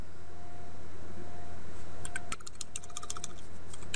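Rapid clicking of a computer keyboard as CLI commands are typed while configuring a Cisco ASA 5510 firewall, a steady patter of close keystrokes in the latter half over a quiet background hum.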